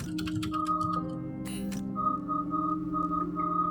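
A short electronic chime pattern repeats several times over a steady low hum, with a brief burst of broadband noise partway through.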